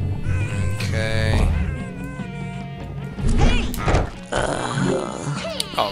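Cat meows from the Psychonauts video game ring out several times over busy game music and effects, with a few knocks and crashes mixed in.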